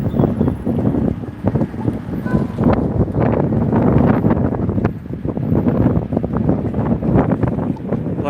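Strong gusting wind roars over the microphone on a downtown Las Vegas street, loud and continuous with constant buffeting and rumble, and a voice is faintly present beneath.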